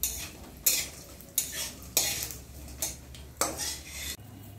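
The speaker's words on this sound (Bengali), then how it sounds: "বড়িগুলো এখন ভেজে তুলে রাখবো। কড়া করে ভেজে তুলে রাখবো বড়িগুলো।" Lentil dumplings (bori) frying crisp in hot oil, with a steady sizzle broken by sharp metal spatula scrapes and stirs against the pan at irregular intervals.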